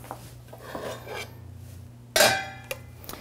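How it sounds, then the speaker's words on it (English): A spoon scrapes and stirs cream, chopped parsley and mushrooms into risotto in a pot, giving soft, irregular rubbing sounds with one sharper clink against the pot near the end, fairly close and quiet. "And just stir that all together"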